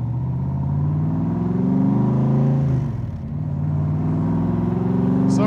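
A 1965 Shelby Cobra Backdraft roadster's engine drones loudly while driving, heard close up, then dips briefly around a downshift before climbing again. No one speaks.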